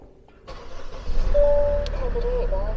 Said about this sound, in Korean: 시동을 먼저 키고